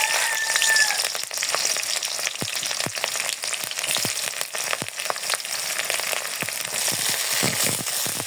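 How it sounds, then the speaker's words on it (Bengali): Onion and green chili sizzle and crackle in hot oil in a wok, a steady close frying hiss with sharp popping bursts throughout. "কড়াইতে তেল দিয়ে দিছি, আর দিয়ে দিব পেঁয়াজ আর মরিচ"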